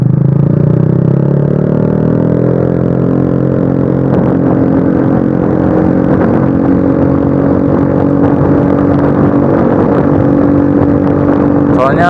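A standard motorcycle fitted with a cheap, loud aftermarket exhaust revs close by, a booming, throaty engine note that holds and swells for about twelve seconds with a few sharper throttle blips near the end.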